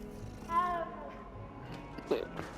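A cat meowing in the video game Hogwarts Legacy: a couple of short, faint meows over quiet background sound, with a voice that may be a person imitating the meow.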